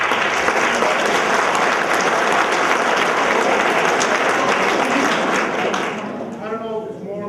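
A crowd at a spring sports awards ceremony gives a loud, sustained round of applause that thins out near the end.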